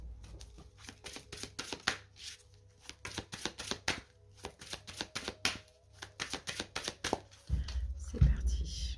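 Tarot cards shuffled close up, a rapid series of crisp riffling snaps in uneven bursts, ending with a few louder thumps and handling noises.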